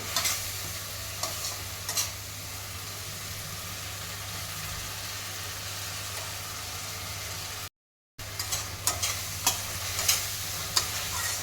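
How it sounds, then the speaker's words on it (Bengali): A spice paste for rohu fish curry with elephant foot yam fries in a pan with a low, steady sizzle, broken by close spoon scrapes and stirring knocks, with no one talking. "মশলাটাকে ভালো করে কষিয়ে নিতে হবে"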